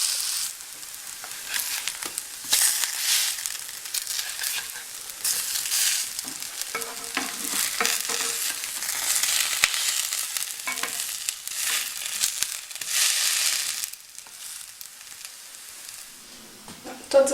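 Pancake batter frying in a hot pan, a steady close sizzle with crackly bursts and occasional scrapes or stirring sounds, continuous throughout with no talking.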